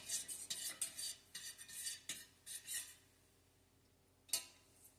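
A utensil stirs a hot candle wax mixture in a container, quick scraping strokes that come in a rhythmic run, then stop, followed by one last clink, close and quiet with no voices.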